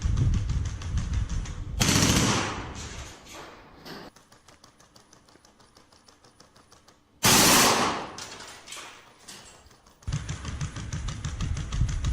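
Armed robots firing machine guns produce rapid, loud bursts of automatic fire, with sharp blasts near the start and the middle and a quieter rattling stretch between them.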